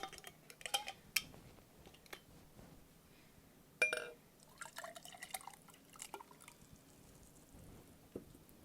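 Infused water with basil and strawberries poured into a glass in a kitchen, a series of soft, close liquid trickles and drips with a brief louder splash partway through.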